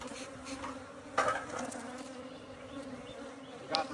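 Honeybees buzz around a defensive hive in an apiary, a dense steady hum with individual bees zipping past near and louder in a few brief swells, with no talking.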